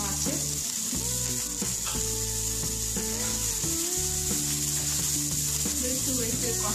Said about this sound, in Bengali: আর একটু আদা ছোট ছোট করে কুচানো দিলাম, রসুন দিলাম